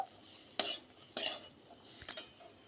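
A spice masala with coriander powder is stirred in a pan, three quiet scrapes of a utensil against the metal with a faint sizzle between them, no voices.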